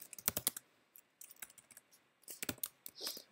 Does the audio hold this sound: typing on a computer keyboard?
yes